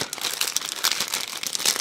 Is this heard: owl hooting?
no